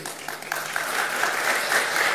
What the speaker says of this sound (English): yes, it's worth an applause.